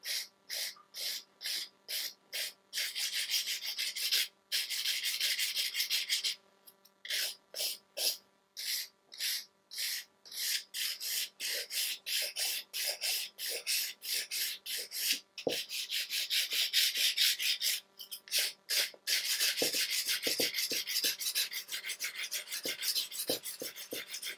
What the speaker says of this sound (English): And I like to move the finger while I'm filing.